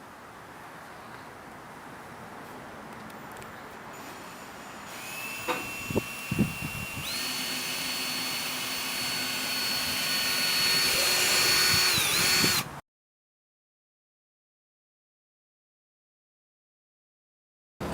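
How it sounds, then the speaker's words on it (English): A power drill whirs steadily for several seconds while installing a cargo box on a Honda Talon side-by-side, rising slightly in pitch, with a few clunks at the start, then cuts off into silence. "Drill away."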